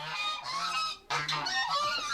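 Geese at a prison in São Pedro de Alcântara, Santa Catarina, Brazil, set up a loud, continuous clamor of overlapping honks, with a short lull midway before the chorus resumes just as strongly.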